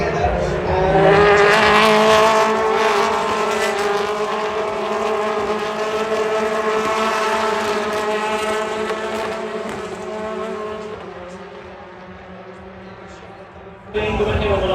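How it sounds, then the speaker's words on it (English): BMW touring cars race at Silverstone during a BTCC round, engines roaring loud and sustained at close range, with tire squeal and a commentator talking over the noise. "Moffat looks to the inside of the way into Brooklyn's corner, the two BMWs together"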